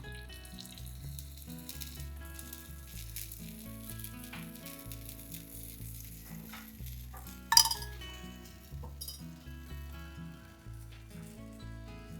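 A wheat masala dosa fries in ghee on a pan, sizzling softly and steadily under occasional clinks and scrapes of a utensil against the metal, with one sharper clatter midway.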